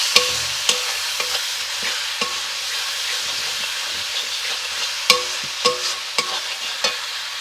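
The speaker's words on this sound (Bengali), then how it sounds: "মশলাটাকে খুব ভালো করে কষাতে হবে।" Spice masala with Kashmiri chilli powder and cumin powder stir-fried in a pan, a steady hissing sizzle broken by sharp scrapes and knocks of a spoon, loud and close with no speech.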